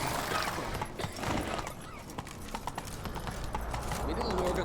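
A horse gallops in The Witcher 3: Wild Hunt, its hooves beating out a fast, continuous rhythm of thuds close by against outdoor game ambience for a few seconds.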